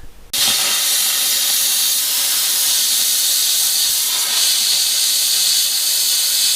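A cutting torch hisses loud and steady, close at hand, as it cuts a bracket on a Jeep Cherokee XJ; the harsh, unbroken rush starts suddenly and holds for several seconds.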